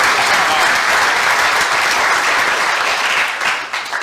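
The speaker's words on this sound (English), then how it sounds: "So a round of applause again for our dancers." A crowd at an Indigenous Peoples' Day gathering applauds the dancers with loud, full clapping that tapers off near the end.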